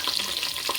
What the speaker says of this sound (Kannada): ಅದ್ರ ಜೊತೆ ಗೋಡಂಬಿ ಕೂಡ ಹಾಕ್ಕೊಳ್ತಿದ್ದೀನಿ.